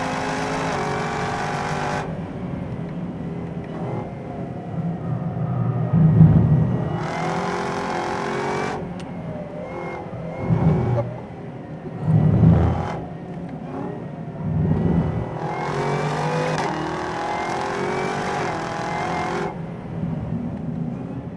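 A 2017 Chevrolet Camaro ZL1 with a 10-speed gearbox accelerating hard around the Spring Mountain track, its engine roaring loudly from inside the cabin and rising through repeated gear changes with brief lulls between pulls.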